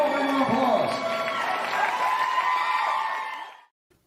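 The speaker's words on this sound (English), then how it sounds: "Let's give them all a round of applause." Audience at a live Friday night show gives a round of applause and cheering after prize winners are announced, a dense steady wash of clapping with whoops that holds for about three seconds and then cuts off abruptly.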